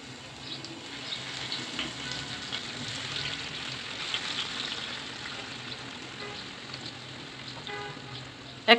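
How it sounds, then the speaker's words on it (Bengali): Steady sizzling of powa fish frying in hot cooking oil, a continuous bubbling hiss with a few louder crackles, close and fairly quiet, with no talking over it. "তেলটা গরম হয়ে গেলে এর ভিতরে আমি মাছগুলো দিয়ে দিব।"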